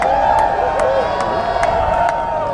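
A rally crowd at Queen's Park applauds and cheers in a continuous roar, with shouts and a sustained tonal cry riding over it and sharp claps punctuating it at a steady pace.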